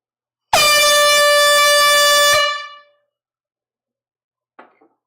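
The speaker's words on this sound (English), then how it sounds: "I'm going to lay on the air horn." A truck-style air horn, blown indoors during a live vinyl record sale, gives one very loud, sustained, brassy blast of about two seconds that fades out, followed by a faint brief clatter.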